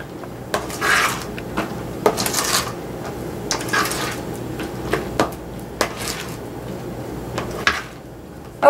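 Mini chocolate chips being stirred into a no-bake chocolate cheesecake filling in a bowl, giving soft rubbing and scraping with occasional brief knocks, close and fairly quiet, with no one talking.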